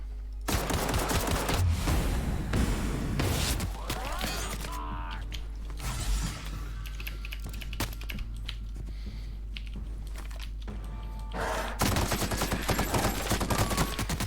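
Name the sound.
gunfire in the video game The Outer Worlds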